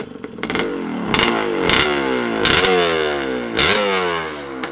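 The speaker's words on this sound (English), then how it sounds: "This thing is loud, red, and rowdy. This is a Maico MC400." A 1978 Maico MC400 big-bore two-stroke motocross motorcycle revs hard several times, each blip rising to a loud, raspy roar before dropping back to a rough, clattering idle, close by.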